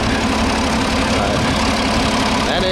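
A 1967 John Deere 5020 tractor diesel, 133 horsepower and turned up slightly, idles with a steady low rumble and faint knocking, constant and fairly close for a few seconds with no talking.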